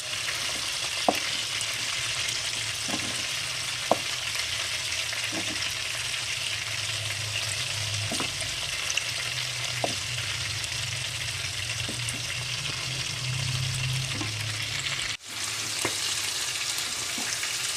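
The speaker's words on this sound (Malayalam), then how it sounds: "ഇത് ഫ്രൈ ആയിക്കൊണ്ടിരിക്കുകയാണ്." Chicken pieces frying in hot oil for a curry, giving a steady, dense sizzle throughout with occasional sharp ticks and pops as the pieces are turned, close and fairly loud with no talking.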